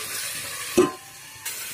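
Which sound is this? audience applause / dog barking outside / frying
frying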